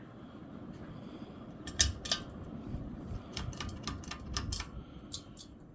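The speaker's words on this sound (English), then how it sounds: "the video on this 42-inch white and brass Bahama ceiling fan made by CEI in 1993" A 1993 CEI Bahama 42-inch white and brass ceiling fan runs with a steady low whir, broken by scattered light clicks and ticks close by.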